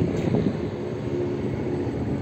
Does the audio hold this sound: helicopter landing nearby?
yes